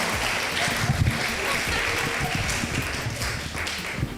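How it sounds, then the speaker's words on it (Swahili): An audience breaks into applause after a prayer for a doctor, a dense, continuous wash of many hands clapping at moderate loudness, with voices talking and murmuring through it. "Tupige makofi ndugu zangu baada ya kumwombea Dr."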